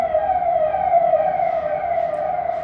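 A wailing emergency siren, identified as an ambulance's, holds a steady rising-and-falling tone loud and close throughout, with traffic rumble underneath and no voices.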